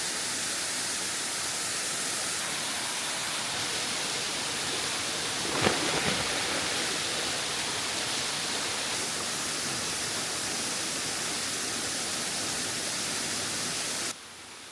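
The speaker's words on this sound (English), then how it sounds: "Very nice waterfall." A small jungle waterfall on Koh Chang pours into a tiny pool, making a steady, broadband rushing roar heard up close, with one brief splashy surge midway and the sound dropping away abruptly at the very end.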